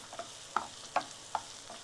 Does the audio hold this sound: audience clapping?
no